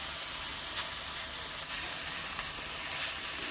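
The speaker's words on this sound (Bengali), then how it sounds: "কড়াই গরম হয়েছে তেল দিয়ে দিলাম একটা শুকনো লঙ্কা রসুন থেতো দিয়ে দিলাম তো এইগুলো একটু ভালো করে ভেজে নিই" Dried chili and crushed garlic fry in hot oil in a wok, giving a continuous loud sizzle with light crackles and no voices.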